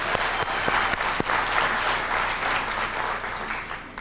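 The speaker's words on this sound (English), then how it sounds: "give yourself a round of applause." An audience at a 1998 comedy show applauds, a dense and loud burst of clapping that fills the whole stretch and eases off slightly toward the end.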